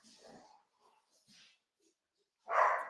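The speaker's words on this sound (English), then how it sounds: "these dogs are going crazy" Dogs bark in a few short, scattered bursts, faint at first, then one loud, close bark at the end.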